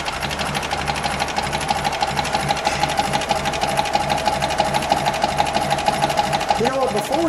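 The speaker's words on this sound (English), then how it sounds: "Man, what a smooth running car." A 1936 Alvis drophead coupe engine idles smoothly with a fast, even mechanical ticking chatter that holds steady throughout, ending with a brief voice near the close.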